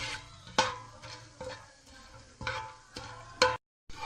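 Whole spices for a matar pulao fry lightly in oil, with a soft steady sizzle under intermittent stirring clicks and scrapes, close and quiet.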